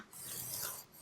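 Scoring cardstock on a scoreboard for a gatefold card: a single continuous rasping, scraping stroke about a second long, close and fairly quiet, with no voices.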